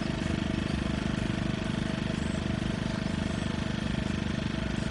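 A Generac portable generator engine runs steadily close by, a loud continuous mechanical drone with a fast regular pulse throughout, with no talking.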